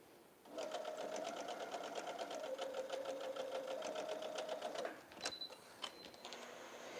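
A sewing machine stitches quilt block pieces for a barbed chevron block in a quick, even run of needle strokes for several seconds, then stops, followed by a few small clicks and handling sounds.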